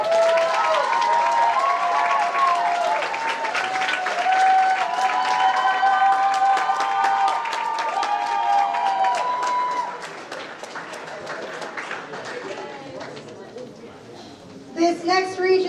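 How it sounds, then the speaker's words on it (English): Applause and cheering fill the room at the NHI 2022 TXGD awards ceremony as the RGV team is honoured. Clapping runs under ringing music and amplified voices, thins out partway through, then a few sharp claps pop near the end. "Ladies and gentlemen, a big round of applause for RGV."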